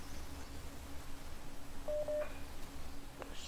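Phone keypad dialing tones inside a Roblox animal simulator game: two short clear beeps close together, then a faint click, over a low steady game hum.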